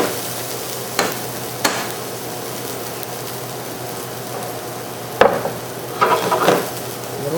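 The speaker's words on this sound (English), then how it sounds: "We have our olive oil here, and we're going to add in our shallots first. We're going to get those nice and soft." Shallots cooking in olive oil in a pan, a steady soft sizzle with a few sharp clanks of utensil against pan and a burst of stirring scrapes near the end.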